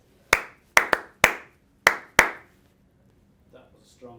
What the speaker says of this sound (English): That was a strong set of claps.